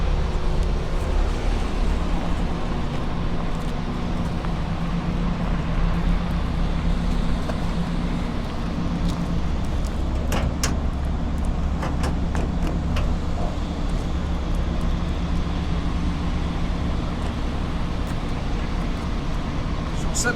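A 1951 Pontiac with its original 6-volt system and original carburetor with automatic choke runs at a steady, even idle for the whole stretch, with people talking over the engine.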